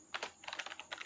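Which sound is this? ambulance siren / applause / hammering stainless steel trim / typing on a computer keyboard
typing on a computer keyboard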